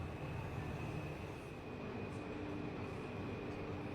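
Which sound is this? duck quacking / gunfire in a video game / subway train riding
subway train riding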